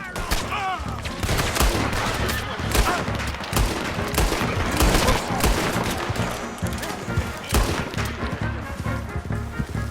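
A dense gunfight in Red Dead Redemption 2, with rapid overlapping gunshots and heavy booming reports firing continuously and loudly for ten seconds, with shouted voices mixed in.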